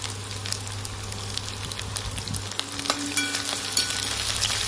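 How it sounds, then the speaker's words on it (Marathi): Chopped onion and capsicum fry in a pan with a steady, close sizzle, broken by a few light clicks and scrapes of stirring over a low background hum. "तर 2 मिनिटं याला पण फ्राय होऊ देऊया।"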